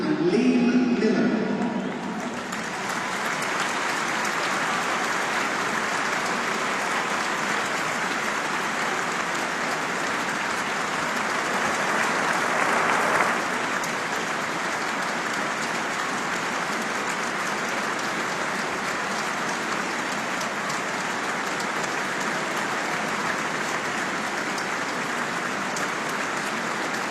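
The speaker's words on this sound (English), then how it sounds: "As is customary, a moment of applause rather than silence." Sustained stadium crowd applause during a memorial tribute at a USMNT versus Ireland football match, a steady dense roar of clapping that holds evenly for nearly half a minute with a slight swell midway.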